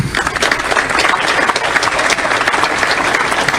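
Loud, sustained applause from a large crowd in a played recording, a thick continuous wash of clapping that stays strong throughout without speech.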